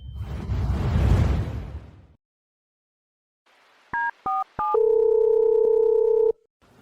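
A loud whoosh fades into silence, then a phone's keypad tones beep in three quick presses before a steady dial or ring tone holds for about two seconds and cuts off.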